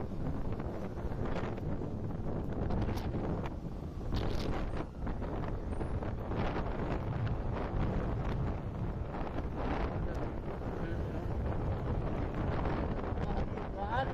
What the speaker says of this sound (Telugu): ఇంత దారుణంగా వస్తుంది గాలి.